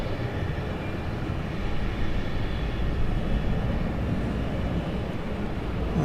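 A Southwest airliner takes off at Dallas Love Field at night, heard as a steady, broad, moderately distant jet roar that swells slightly midway, with no voices.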